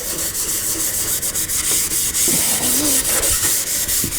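Fine Scotch-Brite scrubs the inside of an Austin Healey rear guard in quick, close, repeated rubbing strokes, a dense abrasive hiss pulsing rhythmically with brief pauses between passes.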